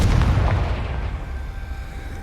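A Confringo blasting spell goes off in the Hogwarts Legacy video game, a deep booming blast that rumbles loudly at first and slowly fades over a couple of seconds, with no talking.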